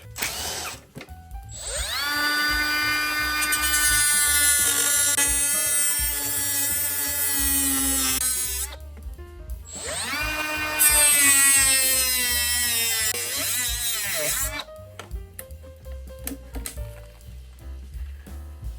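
Power tool notching a bracket on a crash-damaged 2019 Suzuki GSX-R750, two long whining cuts that rise to a loud steady screech and then spin down, with short bursts of tool noise after them.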